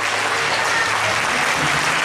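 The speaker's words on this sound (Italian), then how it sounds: "Facciamo un applauso al Signore" A congregation claps steadily and loudly during a church service, a dense continuous wash of applause with no voices standing out.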